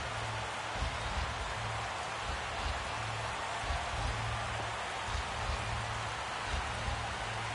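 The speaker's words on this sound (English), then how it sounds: "Rain continues to fall here in the 6th." Steady rain falls on a baseball stadium during the sixth inning of a Houston Astros versus New York Yankees game. It makes a continuous broadband hiss throughout, with a faint low hum beneath.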